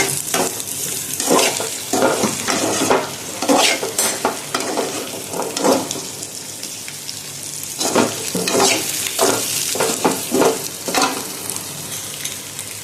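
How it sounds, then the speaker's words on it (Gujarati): Masala being stirred in a frying pan: repeated scraping strokes over constant sizzling, close and fairly loud, with no talking. "અને આમાં હલાવી નાખવાનો આ મસાલો"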